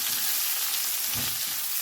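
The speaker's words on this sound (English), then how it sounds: "cook this till the onions turn light brown in color" Sliced onion with green chilies and salt fries in a pan for Bengali-style beetroot and carrot cutlets, a short, dense, even sizzle with a soft stir bump midway, no voices.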